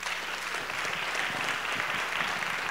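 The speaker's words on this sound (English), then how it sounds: "Can we clap for these gentlemen here?" A small audience applauds steadily for a group of men being introduced at a project launch, a dense, even clatter of many hands that holds at constant loudness throughout with no voices on top.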